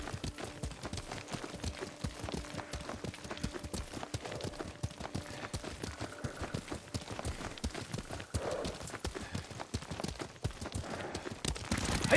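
Horse hooves clip-clopping in steady rhythm while riding through the game Ghost of Tsushima, continuous galloping footfalls under faint ambient game sound, no talk.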